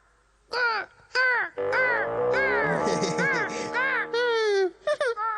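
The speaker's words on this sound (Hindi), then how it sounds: "अरे ये क्या कौवों का झुंड।" Several loud, harsh crow caws ring out in quick succession from a cartoon flock, close and overlapping, with a strained whining tone to some calls.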